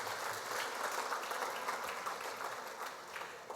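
A luncheon audience applauds steadily, a dense wash of clapping that holds at an even level for a few seconds and then begins to thin slightly.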